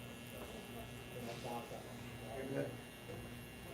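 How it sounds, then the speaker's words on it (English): An electric hair trimmer sets a guideline in a mohawk fade haircut. Its faint, steady buzz sits low in the mix, with soft voices murmuring around it. "it'd be kind of fun to use my favorite trimmer here and just set in this guideline."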